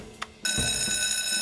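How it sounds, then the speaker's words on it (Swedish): A cartoon telephone rings with a bright, sustained electronic bell trill that starts suddenly after a brief click and keeps going loud and close, with no talking over it. "Jag ringer till brandman Sam"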